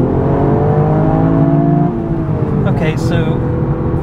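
Toyota GR Yaris engine holding about 4,000 rpm in second gear at around 35 mph, a steady close in-cabin drone with layered harmonics running the whole time, while a person talks over it.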